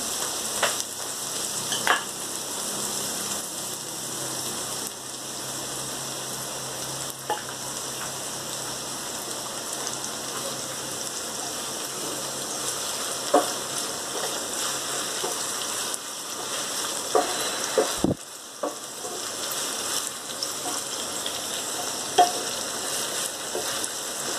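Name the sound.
frying okra (ladyfingers) in oil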